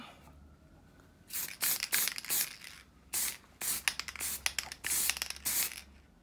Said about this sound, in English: So the clear lacquer is on there.